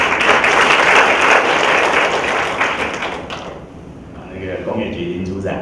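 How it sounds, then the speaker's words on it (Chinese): Audience applause welcomes a company vice president to the stage at a brand leadership forum. Dense, steady clapping fills the room for about three seconds, then fades to a quieter hall. "让我们以热烈的掌声欢迎"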